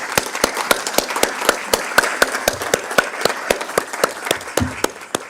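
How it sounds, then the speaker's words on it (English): A round of applause at a university professorial inauguration, heard as steady, evenly spaced claps that sound like a few hands close by, keeping a regular rhythm for about five seconds with no talking over it. "Can we give him a round of applause?"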